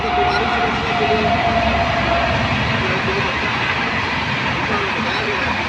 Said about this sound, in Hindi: मैं इस स्थान पर हूँ जहाँ पर ट्रेन की आवाज़ आ रही है।